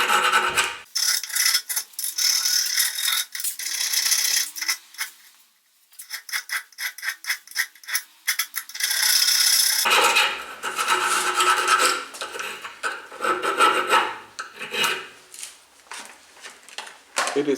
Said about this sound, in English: Then everything's smoothed with the file and it looks great too.